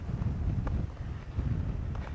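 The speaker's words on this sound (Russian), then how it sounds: "Ветрюган, правда, дует лютый" Strong wind gusting over a flooded lake, buffeting the microphone with a loud, rough, continuous low rumble and uneven bursts, without speech.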